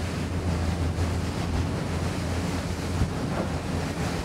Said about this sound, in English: We're shoving out quite a lot of water either side and riding beautifully over that swell.